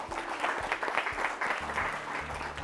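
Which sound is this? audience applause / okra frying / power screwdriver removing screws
audience applause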